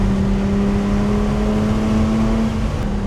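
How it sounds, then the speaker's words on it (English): An Audi S4 V6 engine, built up for more power, drones loudly at a steady high rev, a strong sustained tone held near and alone for about three seconds. "this is the best sounding V6 on the internet"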